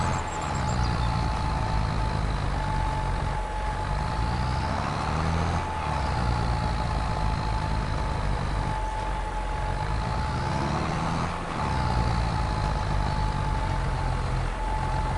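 Tractor engine in the Farm Sim video game runs steadily with a loud, continuous diesel rumble, while the pitch rises and falls slightly as it works through gears.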